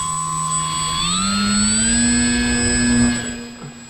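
An RC ASW-28 glider's electric motor spins up, a steady whining tone that rises in pitch as the throttle opens and then holds at a high buzzing hum, fairly close, with no talking over it.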